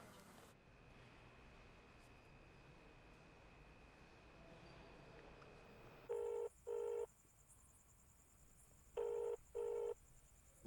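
Electronic phone ring bursts in two pairs over a steady low hum, with a pause between the pairs and no answer.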